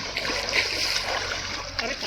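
Someone splashes about in a resort swimming pool, with steady watery splashing and trickling close by and people's voices in the background.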